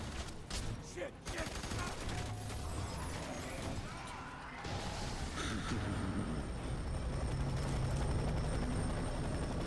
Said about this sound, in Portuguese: Aí tá chegando um avião que infelizmente não é aliado